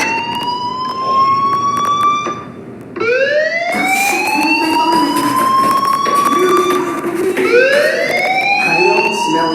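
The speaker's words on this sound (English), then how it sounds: "do you hear that fire alarm?" A loud rising fire alarm siren wails repeatedly in the video game Life Is Strange, sweeping upward in pitch in long cycles, with a brief dip partway through.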